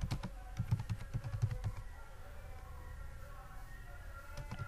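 Rapid keystrokes clatter on a computer keyboard as a coding prompt is typed, dense bursts early that thin into a quieter stretch before a final few taps, with faint background voice.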